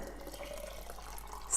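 Broth poured into jars to fill them after a long boil, a steady watery trickle and splash running continuously at moderate level with no talking.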